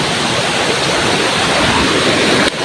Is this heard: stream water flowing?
yes